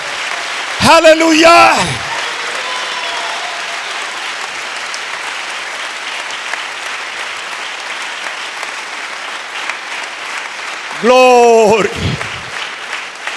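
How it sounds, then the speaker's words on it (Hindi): A church congregation claps loudly and continuously through the whole stretch, a dense wash of applause while a preacher's voice calls out briefly at the start and near the end. "खुदा की बेटियां हो जोरदार तालियां अपने आसमानी डैडी के लिए"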